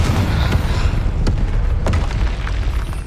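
Confringo blasting spell in Hogwarts Legacy, a loud, deep rumbling boom with heavy low-end weight and a few sharp cracks through it, sustained and close with no talking.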